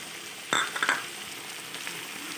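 Mixed vegetables fry in a pan with a steady, close sizzle, broken by a few quick scrapes of a utensil stirring them; no voices.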